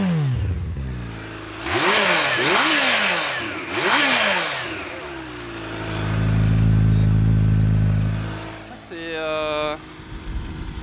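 A supercharged 2019 Kawasaki Ninja H2 SX SE motorcycle revs loudly close by, with two sharp rising-and-falling throttle blips followed by a long sustained swell and drop, then a brief whine near the end.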